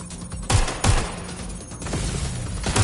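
Loud gunshots crack in the video game Watch Dogs, two close bursts in quick succession, then a sustained rattle of fire that builds again toward the end.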